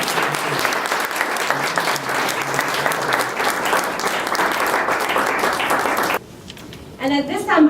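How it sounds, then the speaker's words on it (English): An audience at a New York City committee meeting gives steady, dense applause for about six seconds, then it stops abruptly and a voice begins speaking. "So please give them a round of applause"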